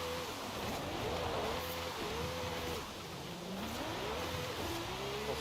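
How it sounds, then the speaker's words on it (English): Repeated high chirping whistles from a racing car's turbos in the video game Forza rise and fall over a steady engine drone, each chirp sliding up as the engine revs. "Hear the turbos chirping."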